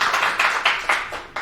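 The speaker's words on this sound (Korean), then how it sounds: "또 성원과 기대의 박수를 보내겠습니다" A small group claps for political candidate Park Yong-jin, about six distinct, sharp bursts of hand claps in an uneven rhythm, close and fairly loud, with no voices over them.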